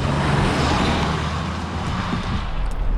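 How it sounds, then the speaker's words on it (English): Steady cabin road noise from a 2022 fifth-generation Nissan Pathfinder SUV while driving, a continuous broadband rumble and tire roar without breaks. "here I am driving the 5th generation 2022 Nissan Pathfinder"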